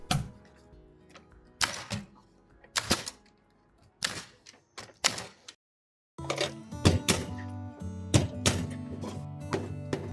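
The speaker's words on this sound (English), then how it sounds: "After using the 90mm high-pressure nail gun for the first time in a while, it seems to be a bit out of sorts." A 90mm high-pressure nail gun drives nails into an exterior wall during carpentry repairs. It fires sharp, close, percussive bangs in an irregular series, some in quick pairs, and the bangs become denser over busier work noise in the second half.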